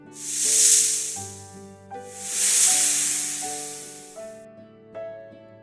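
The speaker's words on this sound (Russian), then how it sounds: "Коралловая змея." Coral snake hissing in two long, airy breaths, loud and close, laid over a light melodic background with no voice.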